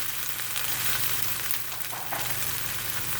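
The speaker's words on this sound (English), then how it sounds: "The second thing I'm going to add is the eggplant" Eggplant hitting a hot pan for a basil stir fry, a dense, loud, continuous sizzle with soft stirring scrapes, heard up close with no voices.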